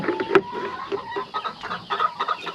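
Several hens clucking close by outdoors on a warm summer evening, in a busy, overlapping chorus of short clucks and murmurs, with one sharp squawk near the start.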